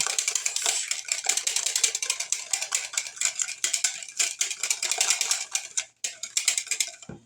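An egg beaten in a bowl with a utensil, rapid rhythmic clinking and scraping against the bowl for several seconds with one brief pause near the end, close and clear, no talk.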